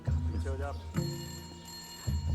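A telephone rings with a repeating electronic bell tone, close and clear, while a voice briefly talks over the start.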